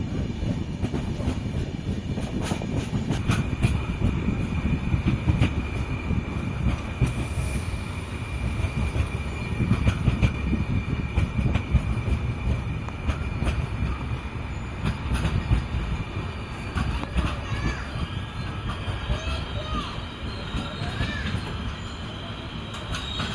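The Puducherry–Yesvantpur Express rolls through Vriddhachalam Junction in India: a continuous, close rumble of train wheels with rhythmic rail clacks and repeated high metallic wheel squeals, with no talking.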